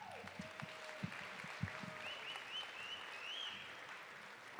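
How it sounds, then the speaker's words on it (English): Faint, steady applause from an audience at a spring commencement ceremony carries on for several seconds, sounding distant with a few louder claps standing out near the start. "Let's give her another round of applause."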